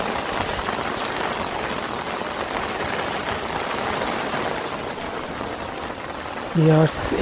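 Steady, dense hiss of heavy rain pours down without a break at a rural fishing spot, and near the end a brief tonal beep cuts through it.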